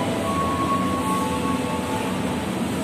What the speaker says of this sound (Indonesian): ini kereta bandara ya